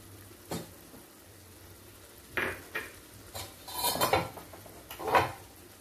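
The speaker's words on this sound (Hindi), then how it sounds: "इसे अच्छे से मिक्स कर लेंगे।" Curd being stirred into kadai chicken masala in a pot, heard as several separate scraping and clinking strokes of a spoon against metal, growing busier toward the end over a faint background sizzle.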